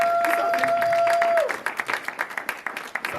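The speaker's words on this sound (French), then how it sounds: "Applaudissez Jésus." Congregation at a French church service applauding in praise, scattered claps building briefly after a held tone fades, with some voices mixed in.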